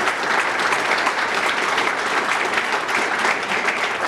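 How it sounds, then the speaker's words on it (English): Dense, steady audience applause at a city's State of the City address, many hands clapping evenly throughout with no talk over it. "Let's give that department a great big round of applause."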